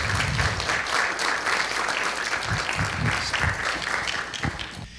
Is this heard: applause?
yes